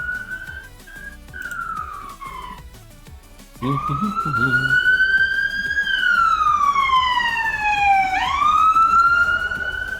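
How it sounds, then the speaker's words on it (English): An emergency siren wails loudly outdoors, its tone sweeping up and down in long rising and falling glides, briefly dropping away then returning stronger and nearer, with traffic rumble underneath. "Sorry about that blaring siren"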